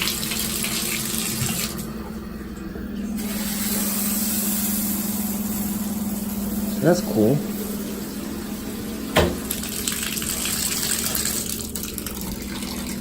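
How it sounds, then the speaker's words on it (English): Hotel shower at the Crowne Plaza La Concha in Key West running at full pressure, a steady loud hiss of water spraying close by, with brief talk and a few clatters over it. "Now we'll go ahead and test the water pressure"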